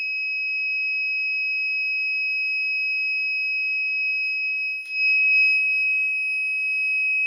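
A piercing, steady electronic alarm tone from a Siemens alarm system siren rings continuously at high pitch, very loud and close, with a brief dip midway before resuming.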